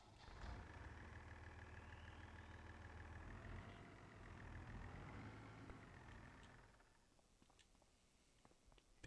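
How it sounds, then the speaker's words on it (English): A small turbocharged yard tractor engine runs at a steady, fairly quiet drone with a faint rising turbo whine, then drops away near the end, leaving light ticking and rustling. "Decent little tractor. Sounds sweet. Turbo, you can hear it."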